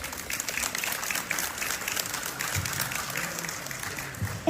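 An audience at a school book presentation gives an author sustained applause: dense, steady clapping from many hands that fills the room for the whole stretch without pause.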